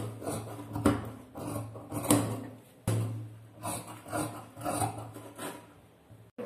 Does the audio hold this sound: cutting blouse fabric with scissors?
yes